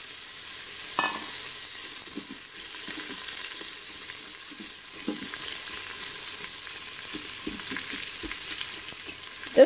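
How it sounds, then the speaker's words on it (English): Chopped onions sizzle and fry in an Instant Pot on its sauté setting, a steady bright crackle and hiss close by, with occasional stirring scrapes and taps and a sharp clink at the very end. "So as I put this in, you're going to hear a lot of sizzle."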